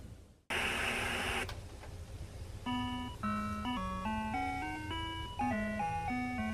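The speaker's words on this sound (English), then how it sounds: "Right away we can hear that actually is the Smurf soundtrack" The Smurfs video game soundtrack on Atari 2600 or ColecoVision: after a harsh noisy burst, a chiptune melody of clean square-wave notes plays steadily over a low bass line.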